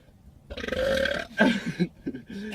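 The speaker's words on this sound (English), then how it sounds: "are you done burping now? Because you've done like 3 liters of like air" A long, loud, gurgling burp, then a few shorter croaky belches, from someone eating fast food inside a parked Ford Fusion car; no other talking.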